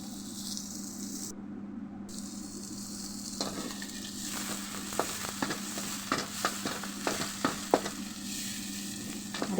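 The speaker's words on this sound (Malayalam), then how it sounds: "അതിനകത്തോട്ട് ഇനി അരിഞ്ഞ് വെച്ചേക്കണ വെളുത്തുള്ളി, ഇഞ്ചി, പച്ചമുളക്, ചുവന്നുള്ളിയും കൂടി ഇട്ട് വഴറ്റുക" Garlic, ginger, green chilli and shallots sauté in hot oil with mustard for an anchovy curry, giving a steady close sizzle broken by sharp scraping and clicking stirring strokes, with no talking.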